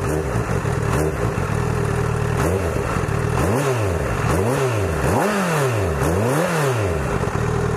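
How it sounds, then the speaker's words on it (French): A 2017 Honda CBR1000RR SP sits idling hot at about 103 degrees engine temperature, its steady engine note joined by a cooling fan whirring, with a few blips of throttle producing rising and falling revs near the end. "on entend le ventilateur qui tourne"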